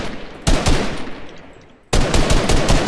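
Gunfire in a battle royale video game, two loud bursts of rapid automatic fire separated by a short lull, close and dominant with no talking.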